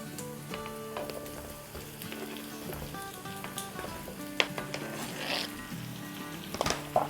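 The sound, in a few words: turnips sizzling as added to fried onions in oil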